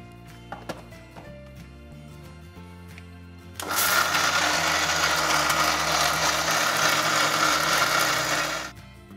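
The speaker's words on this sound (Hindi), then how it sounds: "मिक्सी में पीस लेता हूं इसे।" A mixer grinder whirs loudly for several seconds grinding ridge gourd chutney with a little water, after a few quiet clinks, then cuts off.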